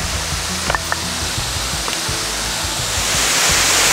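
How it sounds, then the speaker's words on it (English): A sizeable waterfall in Gros Morne National Park, Newfoundland, roars as a steady, broad rush of falling water, loud and continuous, with a few faint knocks from footsteps on loose rock nearby. "Really a nice sized waterfall."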